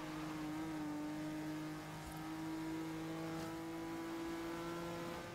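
Race cars in Forza Horizon 3's Hot Wheels expansion drone at a sustained high engine pitch, a continuous steady whine with little variation, loud and alone.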